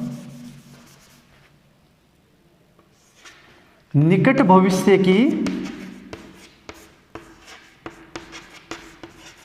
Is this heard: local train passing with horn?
no